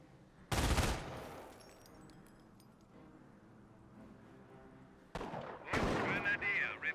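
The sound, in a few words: MG42 machine gun bursts in the video game Company of Heroes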